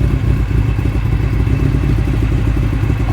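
Honda CB400 Super Four engine running rough while cold, a continuous close, loud idle with uneven clattering pulses and a faltering, stuttering rhythm as the revs sag.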